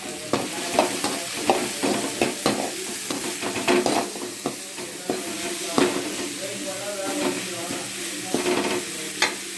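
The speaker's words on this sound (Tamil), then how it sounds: "எல்லாம் ஒன்றா ஃப்ரை ஆகட்டும்." Vegetables sizzle steadily in a hot pan for red sauce pasta, with repeated scraping and stirring knocks from a utensil, close up and with no talking.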